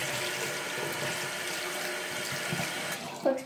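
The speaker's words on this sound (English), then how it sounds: "So here it is, I just need to rinse it out." Water runs steadily from a tap while soap is rinsed out, a continuous close hiss and splash that fills the whole few seconds, ending with a brief squeak and clatter.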